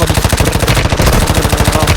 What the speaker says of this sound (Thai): ยิงไปโดน ยิงไปโดนรีโหลด